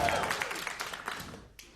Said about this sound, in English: That was less applause because there's only 1 row.